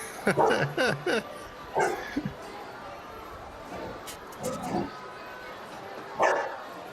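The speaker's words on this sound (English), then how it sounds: "Oh, dog." A dog barks in several quick yappy bursts at the start, then a single bark later on, under a steady background hum, with speech mixed in.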